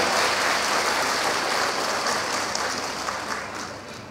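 A large audience of business people at an anniversary celebration event applauds, dense loud clapping from many hands that holds steady and then slowly tapers off.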